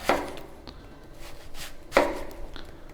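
Two crisp knife chops slicing an onion into rings on a cutting board, about two seconds apart, close and clear with quiet pauses between.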